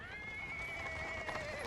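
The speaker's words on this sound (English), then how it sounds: "It's interrupted by a sound of wheels rolling on the paving stones. A cart drawn by a sad little horse appears from around the corner." A small horse pulls a cart over paving stones in the Pathfinder: Wrath of the Righteous game, with a clear whinny over steady hoof clops and rolling wheels, close and moderately loud.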